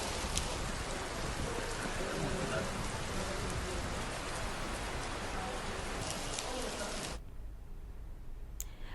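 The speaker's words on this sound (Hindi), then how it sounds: "हल्द्वानी समेत कुमाऊं के अधिकतर हिस्सों में आज बहुत ही तेज बारिश का दौर शुरू हो गया" Heavy rain pours steadily across Haldwani in Kumaon, a dense constant hiss of drops hitting surfaces that drops away suddenly near the end.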